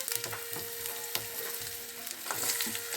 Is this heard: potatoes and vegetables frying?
yes